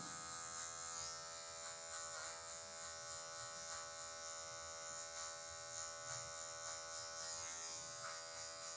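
Electric hair clippers buzz steadily while cutting a mid fade into afro hair, the blade tilted at points for control; a continuous close, even hum with slight variations as the clipper moves, no talking.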